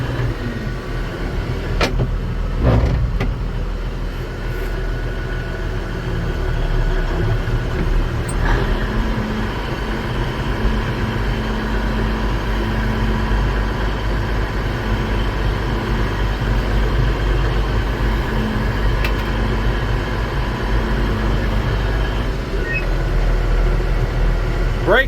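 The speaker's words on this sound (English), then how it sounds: "We'll let that run on high idle." A farm harvest machine's engine runs steadily on high idle for the whole stretch, a loud, constant low drone with a few brief clunks near the start.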